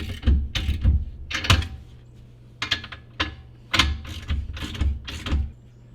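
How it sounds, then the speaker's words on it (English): Ratchet cranking down the U-bolts on a Ford 8.8 rear axle in a Nova swap, heard as clustered bursts of quick metallic clicks repeating in short sets, close and fairly loud over a low steady hum. "I'm going to tighten up all the U-bolts"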